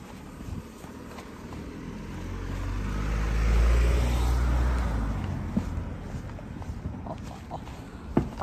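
A car pulls out from a house onto the road, its engine noise swelling to a broad rumble midway, then fading again amid faint outdoor background clatter.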